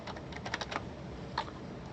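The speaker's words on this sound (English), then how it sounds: "if I start typing, you see hello from filter names" Quick, light keystrokes on a computer keyboard while coding, a short irregular burst of clicks close to the microphone with no talking.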